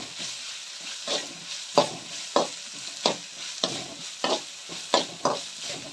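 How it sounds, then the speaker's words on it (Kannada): Tomato gojju mixture fries in a pan under a steady sizzle, while repeated spatula strokes scrape and stir at a fairly even rhythm, close by and with no talking. "ಚೆನ್ನಾಗಿ ಹುರಿಬೇಕು"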